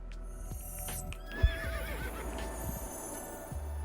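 A horse in the Star Stable video game whinnies in a long wavering call over a steady low hum, with faint clip-clop hoofbeats under it.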